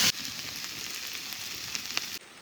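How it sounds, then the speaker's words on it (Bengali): Boiled river bata fish with tender green papaya sizzles steadily in a hot pan, a continuous close frying hiss with a few faint pops, no voices. "এবার একটু ভালো করে ভেজে নেব।"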